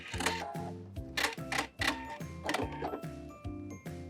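A domestic sewing machine stitches along a fabric seam while a blazer is remade into a mini skirt, running in short repeated mechanical bursts with brief pauses, close and fairly loud, with no talking.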